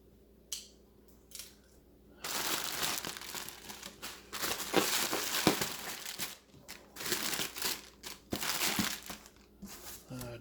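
Close, loud crinkling and rustling of packaging material being pulled apart while unboxing a D6 figure from Certifiable Studios, continuous bursts with brief pauses, a few faint earlier rustles before the heavy crinkling starts.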